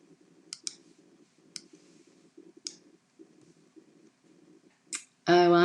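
Computer mouse clicking at a desk while working in cutting-machine design software, sharp single and double clicks scattered over several seconds, with someone talking softly throughout beneath them.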